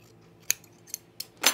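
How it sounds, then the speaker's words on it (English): Scissors trim fusible interfacing fabric with four quick, close snips spaced unevenly in a quiet room. "I'm gonna trim this interfacing here"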